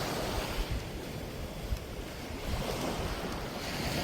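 Surf washes steadily onto Maenam Beach on Koh Samui, Thailand, a continuous broad rush of waves mixed with gusty wind noise across the microphone, with no one talking.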